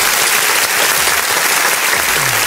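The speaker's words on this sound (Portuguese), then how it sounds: "Salva de palmas." A round of applause in a talk show setting, dense, loud and continuous clapping filling the whole moment without pause.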